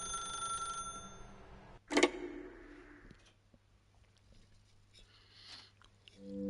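A telephone rings in The Stanley Parable video game with a steady electronic bell tone. A sharp click follows, as if the receiver is picked up, and then faint quiet room tone.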